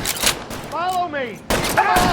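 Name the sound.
gunfire in the video game L.A. Noire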